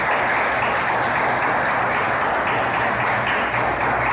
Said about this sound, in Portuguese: Aplauda o Senhor Jesus de Nazaré bem forte.